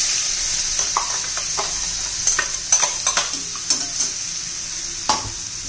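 Radish thecha added to a hot mustard-seed and cumin tempering and stirred in the pan, steady sizzling broken by a series of scraping, clinking spoon strokes, close and without voices.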